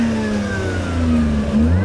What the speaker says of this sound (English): Just give it a bit of a rev.